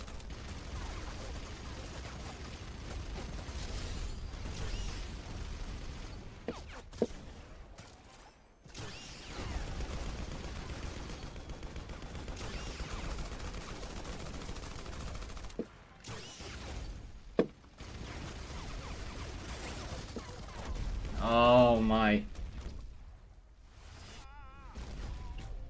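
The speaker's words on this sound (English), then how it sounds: "Oh my god, these explosions though." Gunfire and explosions from a video game crackle in scattered bursts and sharp booms at moderate distance, mixed with mechanical clatter and brief speech.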